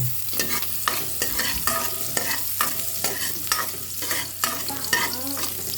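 Garlic and ginger sizzle in a pan for a chicken sotanghon soup, a steady close frying hiss broken by repeated scraping stirs at an even rhythm, with no talking.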